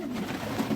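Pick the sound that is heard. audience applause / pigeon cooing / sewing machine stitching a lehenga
pigeon cooing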